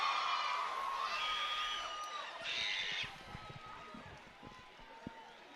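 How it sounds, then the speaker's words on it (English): A crowd of Mombasa Cement Giants supporters at a cricket semi-final roars and cheers after a dropped catch, loud and sustained at first and then thinning into scattered shouts. "you can see the crowd from the Mombasa Cement Giants almost walking into the pitch, celebrating that drop"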